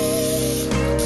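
Canola cooking oil sprayed from a can onto a perforated roasting pan, a short close hiss that shifts tone partway through.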